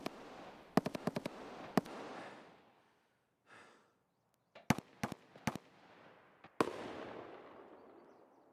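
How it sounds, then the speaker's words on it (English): Gunfire in the video game Escape from Tarkov: several sharp, loud shots in irregular bursts, each trailing a rumbling echo, with a quiet gap midway and a final shot ringing out at length. "Are they shooting at me?"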